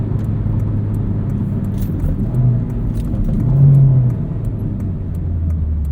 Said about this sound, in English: when you get into VTEC, it just completely transforms